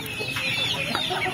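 Chickens on a small home poultry farm cluck continuously and fairly close, several birds overlapping in a short busy burst with no speech.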